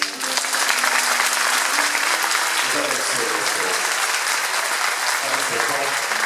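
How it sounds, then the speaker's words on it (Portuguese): A church congregation claps loudly for newly baptized members in a steady, dense wash of applause, while someone speaks briefly over it. "Vocês podem aplaudir a vida deles?"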